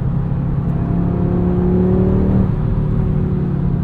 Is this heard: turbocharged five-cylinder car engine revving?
yes